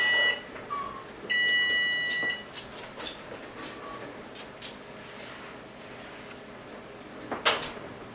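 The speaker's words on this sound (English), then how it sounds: "here comes the timer" Kitchen timer for baked dinner rolls giving a short tonal beep followed by a longer steady electronic tone, then quiet kitchen clatter of a door or drawer and a faint click near the end.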